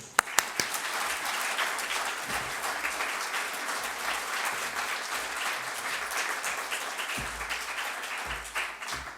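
A lecture audience applauds to welcome Professor Adelman: nine seconds of steady, dense clapping that opens with a few sharp claps and tapers slightly at the end, with no voices over it.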